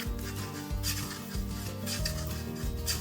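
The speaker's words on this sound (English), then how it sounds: "Oh, this cable's making noise." The cable of a circular knitting needle rubs as stitches are worked, making a soft, steady rasping scrape with slight rhythmic pulses, quiet and close with no talk.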